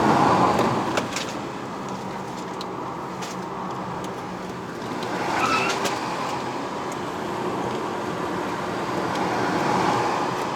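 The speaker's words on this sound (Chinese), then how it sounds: "我一直听到它那个turbo声啊，" A 2014 Audi A3 sedan with a 1.8 TFSI quattro engine climbing a mountain road in Malaysia; constant cabin engine and road roar with a brief rising turbo whistle midway, then swelling again toward the end.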